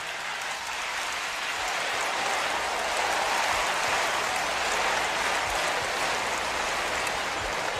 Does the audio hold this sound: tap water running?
no